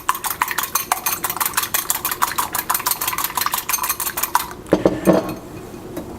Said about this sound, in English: now we're going to take our egg, give that a bit of a whisk.